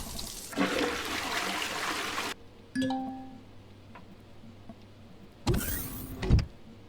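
A toilet flushes aboard a ship's bathroom in the space game Empyrion, a loud rushing burst that cuts off, followed by a short tonal chime and a second brief rush of water near the end, with no talk.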